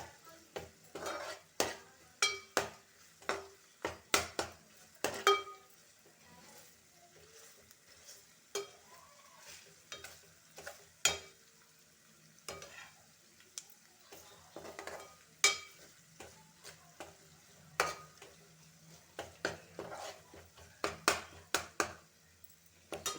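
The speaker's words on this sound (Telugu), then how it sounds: "కొద్దిగా వేగాలండి అల్లం వెల్లుల్లి పేస్టు." Ginger garlic paste frying in a pan while a spoon stirs it, soft sizzling beneath repeated sharp scrapes and clinks of utensil against metal, irregular and close.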